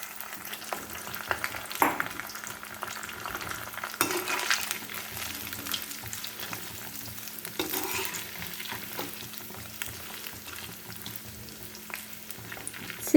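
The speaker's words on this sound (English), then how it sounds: "again deep fry the babycorn" Baby corn deep frying in hot oil for a crispy chilli dish, a steady close sizzle and bubbling with occasional stirring scrapes, running throughout without speech.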